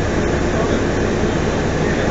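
Inside a moving passenger train heading toward Bedford, a steady loud rumble and rolling hum of the carriage fill the sound with no breaks.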